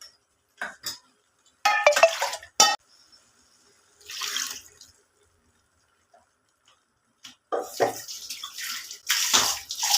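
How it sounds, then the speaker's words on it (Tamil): Water is poured in short, separate splashing bursts into a spicy chicken gravy in a pot, with faint clinks between the pours. The kitchen is otherwise quiet. "கொஞ்சம் தண்ணி சேர்த்திக்கலாங்க."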